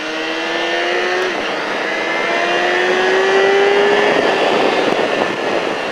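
A motorcycle screams at full throttle on the Alès race track, its engine pitch rising steadily through a long, loud pull with no other sounds over it.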